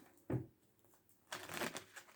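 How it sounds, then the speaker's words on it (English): Tarot cards being shuffled by hand: a brief riffle, a pause, then a longer soft papery flutter, quiet and close with no speech. "Alright, one more shuffle."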